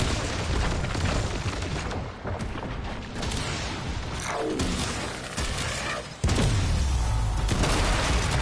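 Rapid gunfire and heavy booms hit the leg joints of the Profit Taker boss in the Warframe video game, with dense continuous shooting, explosive impacts and mechanical clanks, loud and close throughout.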